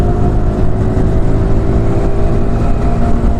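Close, loud motorcycle engine held at high throttle while riding, a steady buzzing drone with wind rush and no voices.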